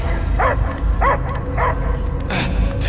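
A dog in the video game Guardians of the Galaxy barks in four sharp, evenly spaced yelps over a steady low rumble of game ambience, each bark loud and close.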